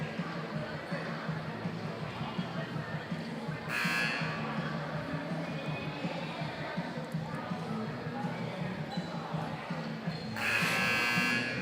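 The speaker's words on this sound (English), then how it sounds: "There's the second buzzer." A basketball game buzzer at a boys' varsity high school game sounds twice, each a steady electronic blast of about a second, over constant gym crowd noise and faint talk.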